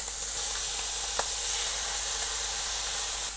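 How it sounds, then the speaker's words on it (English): Spam sizzling steadily in a hot pan as it crisps for kimchi fried rice balls, a continuous bright hiss with a faint scrape partway through and no voices. "Our spam in first. Let's get the spam a little bit crispy."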